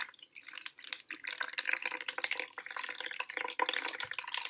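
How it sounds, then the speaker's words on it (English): Herbal infusion is poured through a cloth bag into a bowl, giving a steady close trickle and splashing of liquid with scattered drips for several seconds, with no talk. "pour it into a bowl."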